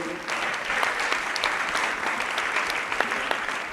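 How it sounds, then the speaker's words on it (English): Sustained audience applause for festival panelists at a film and TV market and awards event, a steady dense wash of many hands clapping throughout with no talk. "kindly, please give my panelists a hearty round of applause"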